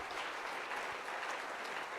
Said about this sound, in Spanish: ¿Cuánto le damos un aplauso al Señor esta mañana?